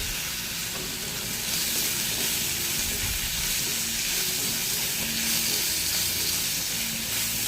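Chopped tomato sautés in a pan for a fish curry, giving a dense, even sizzle and hiss that holds steady and close for the whole stretch, with faint stirring and no talk.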